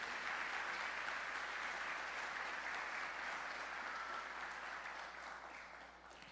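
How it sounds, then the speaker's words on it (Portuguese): A church congregation applauds during a worship service, a dense, steady wash of many hands clapping at close range that holds strong and then begins to fade in the final second. "Aplauda o Senhor Jesus mais uma vez"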